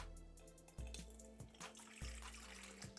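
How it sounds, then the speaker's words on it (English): Half a cup of cold water pouring into a stand mixer bowl for homemade marshmallows, a steady splashing trickle with a few brief clinks, close and alone. "to this bowl, I'm gonna add a 1/2 cup of cold water"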